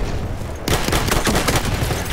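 Loud, rapid bursts of gunfire from a Battlefield 1 Conquest match break in after a brief lull and continue as a dense volley of shots.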